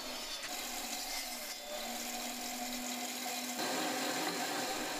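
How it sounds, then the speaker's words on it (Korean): A non-electric, bicycle-pedal-powered circular saw mounted in a wide board cuts through wood with a continuous, loud, gritty whine and a steady hum that rises slightly as the cut goes on. "이 장치는 비전력 페달 원형 톱으로 운동을 하듯 자전거 페달을 돌리기만 해도 전기톱과 다름없는 성능을 자랑합니다"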